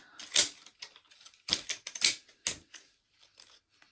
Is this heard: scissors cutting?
yes